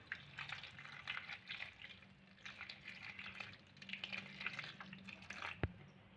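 Hot water poured over cauliflower florets in a bowl, a faint trickling and splashing with soft irregular drips and one sharp clink near the end, heard alone.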